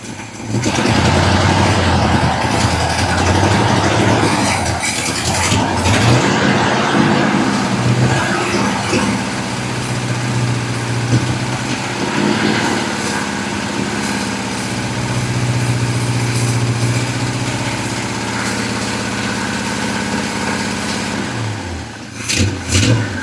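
A 1967 Chevy C20 pickup engine, revived after sitting twelve years, runs continuously at a steady loud idle with low rumbling and occasional swells of revving, close by and with no talking.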